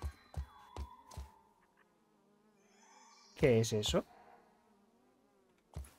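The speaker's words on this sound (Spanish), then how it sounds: "Son las abejas y ya." Insect buzzing from bees in the survival video game Grounded, a loud close burst of droning in the middle, with brief clicks and a short spoken question earlier.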